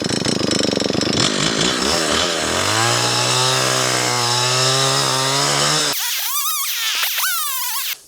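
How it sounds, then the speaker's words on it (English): A chainsaw roars close and loud while cutting fallen wood into firewood lengths, its engine pitch dipping and rising as the chain bites and then revving freely. "We're cutting down nice little lengths for storage for firewood."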